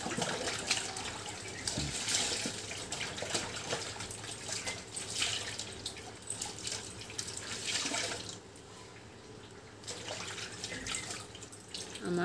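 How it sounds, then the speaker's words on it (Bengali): Clothes being washed under a running tap, with splashing, sloshing and water rushing in uneven bursts, close and fairly quiet, with a brief lull near the end and no talk. "কাপড়গুলো একটু ধুয়ে নেবো"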